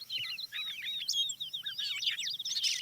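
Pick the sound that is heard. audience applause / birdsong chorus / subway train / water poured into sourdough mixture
birdsong chorus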